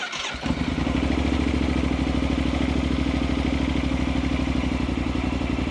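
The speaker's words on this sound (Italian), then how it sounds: "se andiamo ad accendere la moto" A motorcycle engine catches after a brief starter clatter and settles into a steady, close idling rumble.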